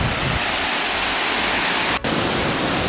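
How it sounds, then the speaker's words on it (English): Steady roar of a waterfall heard from its top after a hike in Costa Rica, a dense unbroken rush of water that fills the whole clip at close range, with a momentary dip near the end. "So I'm at the top of the waterfall we were just at before."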